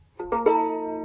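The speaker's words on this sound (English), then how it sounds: "Does your violin sound like this?" A violin that has drifted out of tune, bowed on three open strings one after another, each entering with a scratchy attack and then ringing together in a sustained, slightly sour chord, close and moderately loud with no talking.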